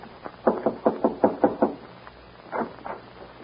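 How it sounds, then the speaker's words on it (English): A ranch house door knocked in a radio drama, a quick run of about seven firm knocks, then a short pause and two more, close and clear with no voices. "is voted to knock on the door and make the necessary speech"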